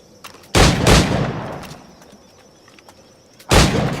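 Two loud, close firearm shots in Assassin's Creed 4, each a sharp crack followed by a rolling echo, spaced about three seconds apart over quiet ambient background with faint bird calls.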